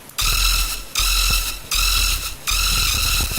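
A siren-like synthesizer note bent with the pitch wheel, repeated four times in even bursts, each bright tone swooping in pitch over a low rumbling bass, loud and alone.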